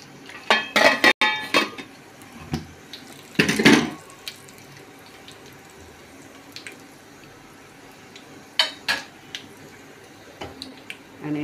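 Water poured into a pot of simmering mixed mung dal aamti, heard as a couple of short splashing bursts with a few light clinks of a small metal cup, then quieter kitchen sounds.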